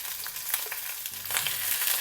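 Halved shallots and garlic cloves crackle and spit in oil in a clay pot, a close, steady sizzle with scattered pops that swells in the second half as they are moved around.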